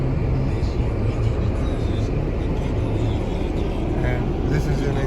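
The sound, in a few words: car interior driving noise in snow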